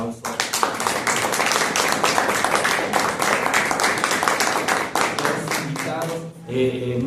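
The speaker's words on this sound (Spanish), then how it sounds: "Vamos a darle también un aplauso." Sustained audience applause at a university panel discussion at FES Cuautitlán, many hands clapping steadily and loudly for several seconds before tapering off near the end.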